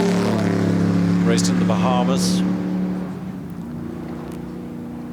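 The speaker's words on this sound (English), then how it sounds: "another car that just makes one of those fantastic ear-shattering noises as it approaches" The Hairy Canary racing car engine approaches with a boomy, steady note that swells loudly and then fades slightly as it passes, with a commentator speaking over it.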